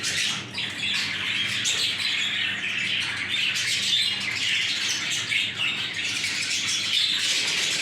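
Show jumbo budgerigars in an aviary chirping and squawking in a dense, continuous chatter from many birds at once, with some wing flapping mixed in and no voices.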